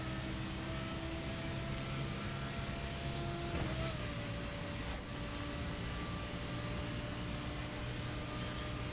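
A Lamborghini Gallardo circuit-spec car drives steadily in The Crew, its engine holding a sustained, even drone with a faint shift in pitch partway through, under a constant layer of road and wind noise.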